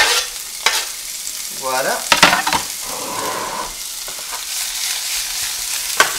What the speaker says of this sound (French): Donc je nous mets l'oseille et les tomates dans la poêle.